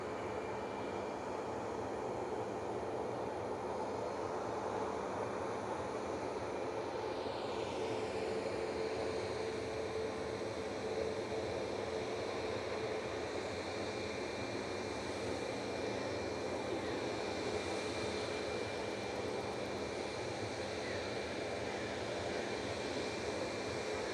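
A Brussels Airlines jet in Tintin livery at Manchester Airport, its steady engine roar sustained throughout with a whining tone that shifts in pitch as the aircraft moves, heard from a distance without talk.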